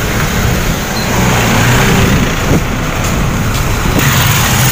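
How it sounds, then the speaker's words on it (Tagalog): A small motor tricycle's engine drones steadily as it passes close by on a busy road, with traffic noise throughout. "Ayun o, tricycle."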